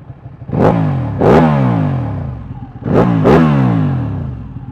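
Ducati 1199 Panigale L-twin sport bike blipping its throttle through twin exhausts, with two pairs of sharp, loud revs that each rise quickly and then fall back to a rough idle, close by.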